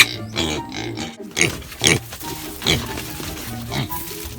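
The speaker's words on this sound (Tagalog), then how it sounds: "Tignan nyo yung mga baboy sis. Ang ingay-ingay." A pen of noisy farm pigs grunts and squeals at feeding time, with several loud bursts and overlapping oinks close by.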